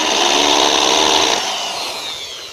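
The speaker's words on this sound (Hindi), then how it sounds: "मेरे पास ये ड्रिल के आगे छोटी वाली बिट है तो मैं इसके ज़रिए ही डायरेक्ट निशान लगा लेता हूँ।" A power drill with a small bit, used to mark holes on a solar panel fitting stand, runs as a loud, steady high whine for over a second and then winds down, close up with no talk.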